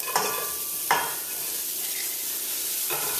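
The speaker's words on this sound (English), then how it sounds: "we're just going to start adding the shredded cabbage to the pot" Shredded cabbage stirred into a pot with garlic and onion, giving a few soft scraping stirs at the start, middle and end over a steady low sizzle.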